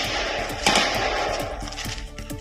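Heavy automatic gunfire in a dense forest encounter between security forces and Naxalites in Kanker, with rapid overlapping bursts of shots and echoing cracks, loud and sustained throughout.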